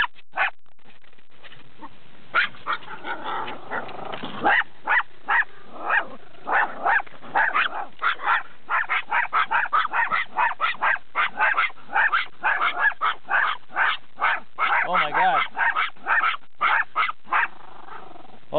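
Two dogs bark and growl aggressively while hunting a horse in Burbank, a rapid, irregular series of sharp barks that builds and grows denser, heard at moderate distance with no voices.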